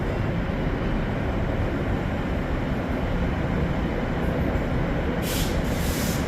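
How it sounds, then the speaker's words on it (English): The Z45 train from Chester to Carlisle rolls past with a dense, steady roar of wheels and carriages, loud and close, unbroken for the whole stretch with no speech. "Z45 from Chester to Carlisle, which is now going into the stable inside and a bit further up the line"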